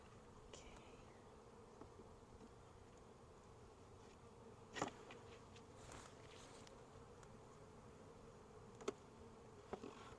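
Honey bees buzz steadily around a pollen feeder, a dense, continuous hum close to the microphone with a few louder bees passing near.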